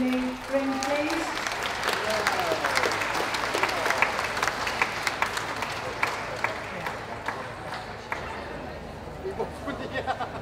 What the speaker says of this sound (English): can we have a round of applause for those leaving the ring, please?